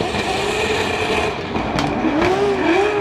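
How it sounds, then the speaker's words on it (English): A Toyota 86 drift car at a Formula Drift Pro 2 event in Atlanta, engine roaring steadily with a rising, wavering tone and squealing tires, punctuated by a couple of sharp pops near the middle, loud and close throughout with no talk. "The screech of the tires, the popping of the engine"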